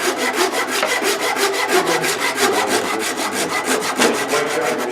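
A wood lathe spins a wooden snowman blank in an eccentric setup, giving a loud, steady whirring drone with a fast, regular rhythmic pulse throughout and no talk.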